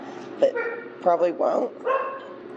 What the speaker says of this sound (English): You can hear a dog in the background.